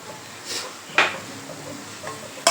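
A ground puffed-rice mix is tipped into moringa (drumstick) leaves frying in a pan, making a few light metallic clinks and taps of a spoon against the pan, close and alone.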